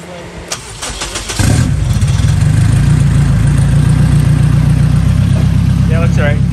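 A car engine cranks briefly, catches and settles into a loud, steady idle close by, with a voice faintly audible near the end.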